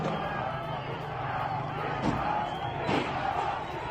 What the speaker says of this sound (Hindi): एक तरफ लोगों की भारी भीड़,